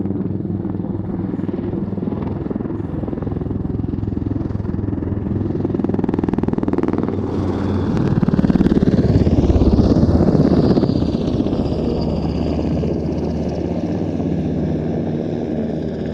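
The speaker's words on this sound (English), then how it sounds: "flown by Markus Doring and Lars Nissen, that was the NH-90 Tactical Transport Helicopter." An NH-90 tactical transport helicopter at an airshow flying display produces a loud, continuous rotor and turbine roar that swells as it passes nearer around the middle, then eases off.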